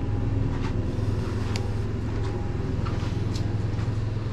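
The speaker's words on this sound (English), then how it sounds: "So we're test driving the Thor ACE 2019 dual restroom motorhome." Thor ACE 2019 dual-restroom Class A motorhome on a test drive, a steady low engine and road rumble that holds constant throughout, with faint rattles and clicks over it.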